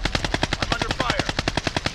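Gunfire from a video game, a fast machine-gun burst of evenly spaced loud shots, close and continuous for about two seconds, with no voices.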